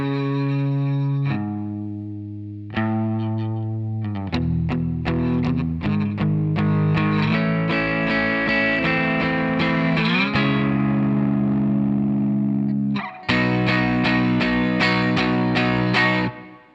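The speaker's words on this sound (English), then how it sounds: "So it's like the heavier tone guitar with a bit of distortion." Heavily distorted electric guitar plays a song, loud sustained chords and riffing with effects, a brief drop near the start and a short pause before a final strummed section.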